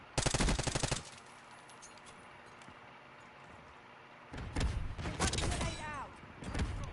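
Automatic gunfire in Black Ops 6 rattles loudly in a rapid burst at the start. After a quieter stretch, further volleys of shots and impacts follow close together.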